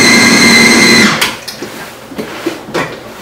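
A kitchen machine grinding a fish ball mixture whirs loudly for about a second and then stops, followed by a few soft knocks and handling sounds, close by.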